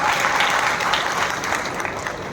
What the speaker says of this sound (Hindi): एक बार जोरदार तालियां सृष्टि और उनकी मदद के लिए